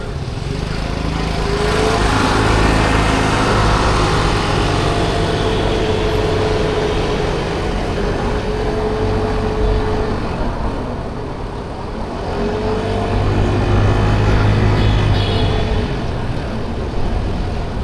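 A 50cc motorbike engine drones steadily while riding on a trip to the Saigon Bridge, with loud, continuous buzzing and road and wind noise that rises and falls slightly in pitch.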